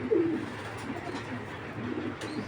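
A slim-bodied racer pigeon at a breeding farm coos softly close by, one low burbling phrase near the start and fainter coos later, with no talking.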